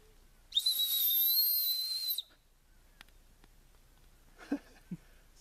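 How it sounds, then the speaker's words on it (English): A single loud whistle blast about one and a half seconds long, a steady high shrill tone outdoors on a backpacking trail, followed by quiet with a few faint knocks and brief soft sounds. "I have this whistle."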